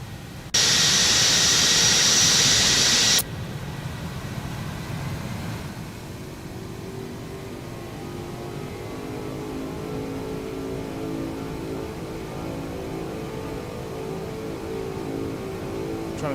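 Boeing 747 jet engines spooling up in the X-Plane 12 flight simulator, a steady low rumble with a rising hum that builds gradually after a brief loud burst at the start, with no talking.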